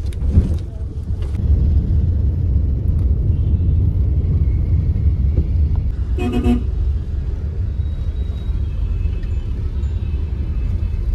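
A booked car driving through Delhi, heard from inside the cabin as a steady low engine and road rumble, with a short horn toot from the traffic midway.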